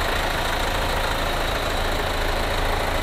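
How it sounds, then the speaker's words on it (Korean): A Hyundai Santa Fe DM with a 2.0 diesel engine idling, heard up close from the engine bay as a loud, steady, even rumble with no speech over it. "엔진 소리도 일정합니다"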